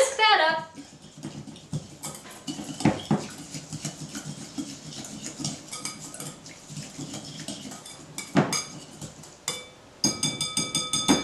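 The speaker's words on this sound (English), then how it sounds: "And we're gonna add balsamic vinegar. We're gonna whisk that up." Whisk scraping and clinking inside a mixing bowl as balsamic vinegar, rosemary and garlic are beaten together for a rabbit marinade, a close, steady rhythm of metallic taps with a few louder knocks.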